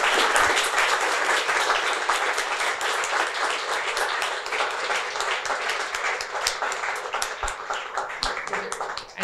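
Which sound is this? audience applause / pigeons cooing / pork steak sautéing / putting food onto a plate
audience applause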